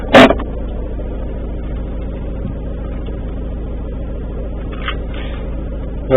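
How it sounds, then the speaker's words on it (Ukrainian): A parked car's engine idles steadily, a continuous low hum running evenly throughout, with a brief sharp sound at the start. "Бачите, машина заведена."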